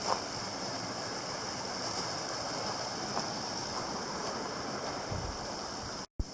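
Stream flowing through woodland in Nevada's Snake Range, a steady, even rush of water filling the whole scene, close and continuous, with no voices.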